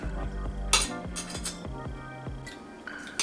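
Rice and beef curry scooped onto a plate with cutlery, giving a sequence of close metallic clinks and scrapes against the dish with soft rustling in between and no talking.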